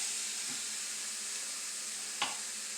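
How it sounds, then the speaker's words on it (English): Pork chops hiss and sizzle steadily in a preheated, oiled cast iron pan, a continuous bright frying crackle with a couple of brief louder spits, no talking. "You literally just want to take your chops and throw them in a pan"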